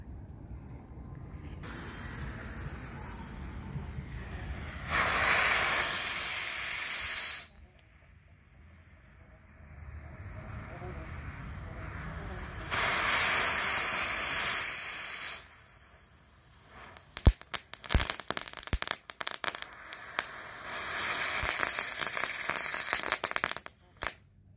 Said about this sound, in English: That was Crater Cruiser by Brother Pyrotechnics.